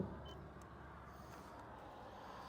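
A steady, low engine hum runs throughout at a quiet, even level from a 2020 Renault Trafic van with a 2.0 diesel engine and automatic gearbox, idling or running nearby with no talking.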